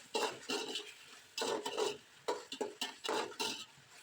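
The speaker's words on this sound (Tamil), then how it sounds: "இப்போ இந்த தக்காளியும் நல்லா கொஞ்சம் வதங்கட்டும்" Tomatoes sautéing with onions in a pan for a country chicken gravy, stirred in repeated scraping strokes of a spoon against the pan, close and fairly quiet, with a faint sizzle beneath.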